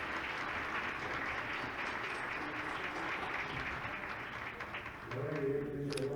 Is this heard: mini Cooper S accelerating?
no